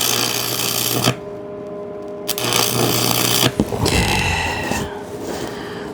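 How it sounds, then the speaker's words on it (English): Welding a steel cross brace to a disc produces three bursts of harsh, crackling buzz separated by short silent pauses, close and fairly loud. "Or weld it, I should say, to this disc."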